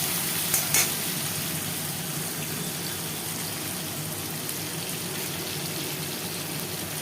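Spices tipped into browned onions in hot oil while cooking Bhola fish kalia, giving a steady close sizzle with faint stirring, alone without talk.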